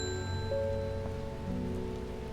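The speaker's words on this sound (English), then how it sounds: "Does it ever stop raining in Undermere?" Steady rain patters in the Strange Horticulture game town of Undermere, a continuous even hiss of drops on surfaces under faint sustained musical tones, with no talk.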